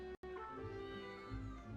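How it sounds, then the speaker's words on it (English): A cat meows in the background of a Genshin Impact game scene, its harmonic cry steady and moderately clear under a musical backdrop, with one brief dropout near the start. "I hear a cat in the background."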